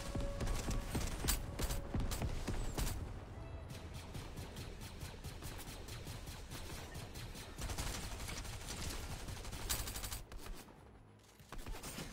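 In a multiplayer video game, another player fires rapid, crackling volleys of gunshots in dense stretches, fairly faint overall, with brief quieter gaps between bursts.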